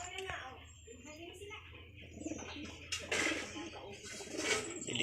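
Racing pigeons, including a checker and a blue bar with white flights, cooing softly in a loft with faint chirps around them, under a voice talking nearby.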